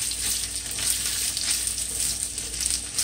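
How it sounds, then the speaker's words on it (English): Saltfish frying in oil while being stirred and broken up, a steady loud sizzle with bright crackling throughout and soft scraping of the stirring utensil. "you just take your thing while you stir and just break up your saltfish"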